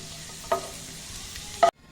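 Cashews and raisins frying in ghee, a low sizzle punctuated by two sharp scraping stirs of a spoon in the pan, close up and with no talking, ending abruptly.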